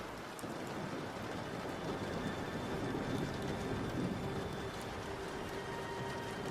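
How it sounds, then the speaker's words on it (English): Rain falls steadily outside a boat as a continuous, even wash of drops on surfaces, moderately loud and unbroken, with no voices. "we see the rain is starting to calm down"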